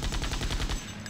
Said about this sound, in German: Der hat seinen Schuss schon abgefeuert.